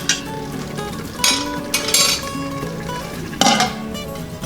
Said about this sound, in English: I'm going to cover the instant pot with a lid